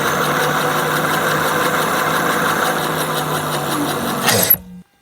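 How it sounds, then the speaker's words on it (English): Lectric XP 3.0 e-bike hub motor with about 138 miles on it, running during a ride: a steady droning whir with a low hum and faint rattly vibration, continuous and fairly loud, then cutting off abruptly near the end. "what my motor sounded like on the ride today"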